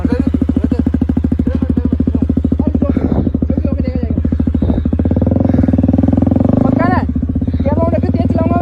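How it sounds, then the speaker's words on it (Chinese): Motorcycles ride along a road, producing a steady, close engine drone with a rapid firing rhythm. Voices talk over it throughout. "这一次，当他们骑着摩托车行驶在路上时"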